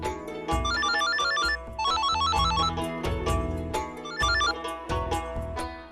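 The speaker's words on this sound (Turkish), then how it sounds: "Biri çalan telefonu kapatıyorsa işi vardır." A telephone rings in a Turkish-dubbed Indian TV drama scene, a repeating electronic ringtone melody playing loudly in bursts over a steady musical backing with no talk.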